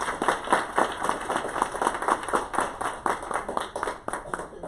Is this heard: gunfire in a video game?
no